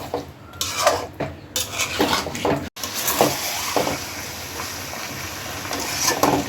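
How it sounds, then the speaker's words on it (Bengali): Chicken and palm fruit pulp with spices stirred in a metal pot produce repeated scraping and clinking of a spoon against the pot, uneven and close, with one brief gap midway followed by steadier scraping. "এখন আবার মশলার সাথে সবগুলো মাংস এবং তালের শাঁস একটু কষাই নিই।"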